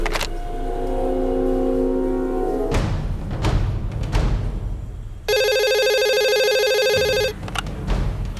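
A telephone rings in a tense crime drama scene: an electronic ring burst cuts in partway through, loud and close, amid thuds and low rumbling background noise, with no speech during it.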